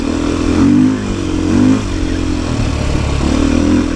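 A Beta 500 RS dirt bike motor drones close by, rising in short revving surges as the rider accelerates on wet, rain-soaked ground, loud and continuous.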